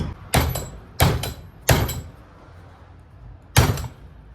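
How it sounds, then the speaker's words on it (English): Metal is hammered on a bench vise in a workshop, four loud, sharp ringing blows spaced unevenly, with quiet gaps between strikes. "me beating something on this vise"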